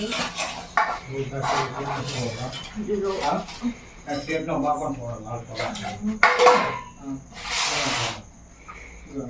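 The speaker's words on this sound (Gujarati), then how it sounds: "તો ગરમ પાણી બધા વાસણ ઘસી નાખવાના છે." Metal pots and dishes are scrubbed with hot water, clanking and scraping in an uneven rhythm close by, while people talk throughout.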